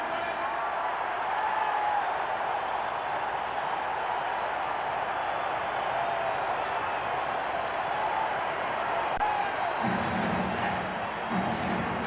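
A sellout crowd of about eighteen thousand inside a basketball arena during a 1989 NBA playoff game between Cleveland and Chicago, roaring as a steady, dense wash that holds loud throughout, with a low rumbling swell near the end.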